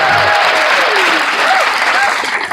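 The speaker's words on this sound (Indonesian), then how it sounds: "Oh, tepuk tangan" Loud crowd applause fills a church gathering, dense and continuous clapping with faint whistles or cheers mixed in, fading slightly at the end.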